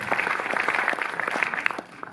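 Audience at Le Méliès cinema in Montreuil clapping for a publisher during a film discussion, a brief steady burst of moderately loud applause from a seated crowd.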